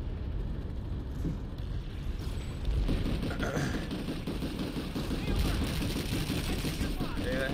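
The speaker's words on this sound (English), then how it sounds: "Whoa, I'm getting sniped at." Sniper fire aimed at a player in the Planetside 2 shooter, heard as sharp shots and rattling gunfire cracking repeatedly over dense, continuous battlefield noise.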